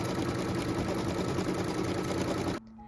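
A sewing machine runs steadily for about two and a half seconds while stitching a quilt piecing template onto batting, then stops abruptly, leaving a faint hum behind.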